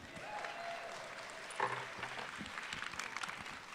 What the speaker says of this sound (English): I give her a big round of applause